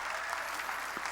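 A church congregation claps during a sermon, a dense continuous wash of applause heard from within the crowd, fairly soft and even throughout.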